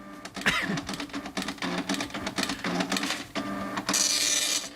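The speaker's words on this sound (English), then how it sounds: "I remember like printing long documents, and it would do stuff like this." An old computer printer works through a long document, with a fast, busy mechanical chatter of print head and paper feed that runs continuously at close range, ending in a brighter, hissing passage.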